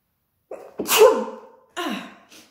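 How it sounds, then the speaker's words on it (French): A loud, close sneeze with a sharp intake and explosive burst, followed by a second, softer sneezing breath. "très intense, ça me fait éternuer"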